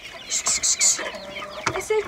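Chickens cluck close by in several quick, separate bursts, loud and clear, with a little background noise between calls.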